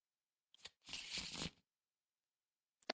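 Arkham Horror LCG playing cards shuffled once in a quick, close riffle burst lasting under a second, with soft card clicks before and after in a quiet room.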